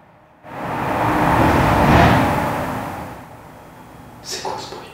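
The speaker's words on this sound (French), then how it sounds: "il y a eu le camion qui est passé" A truck passes outside a house, its broadband rumble swelling to a peak near the middle and fading away, followed by brief faint voices.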